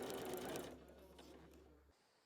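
Sewing machine topstitching the flap of a pair of shorts, a short burst of fast rattling stitching at the start that fades into a quieter low motor hum before stopping, faint overall.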